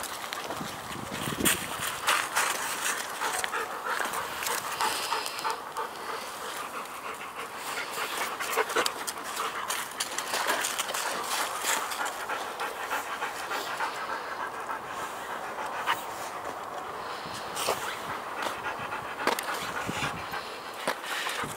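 Dog panting outdoors at dusk, rapid steady breaths repeating close to the listener for the whole stretch, with light wind and rustling behind.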